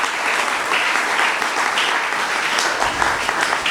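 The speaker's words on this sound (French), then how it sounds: "Est-ce qu'on peut acclamer pour la parole?" A church congregation applauding during a French-language sermon, a steady, dense wash of clapping from many hands that fills the room throughout.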